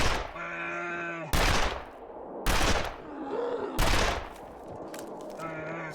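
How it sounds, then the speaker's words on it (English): Gunfire in the survival video game The Long Dark: four loud, sharp shots spaced about a second apart, each with a long decaying tail, and a low tonal hum between them. "I'm first time shooting."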